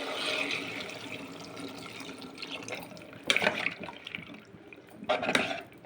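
Water pours into a pot of cooked fenugreek dal before pressure cooking, a steady close splashing stream with a few louder gushes and drips toward the end.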